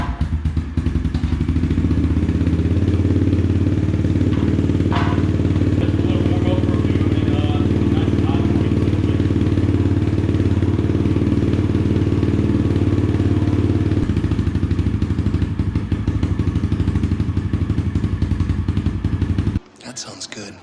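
A 2019 Yamaha TT-R 110 dirt bike engine runs steadily close by, a loud, even low rumble sustained for most of the clip before it cuts out near the end.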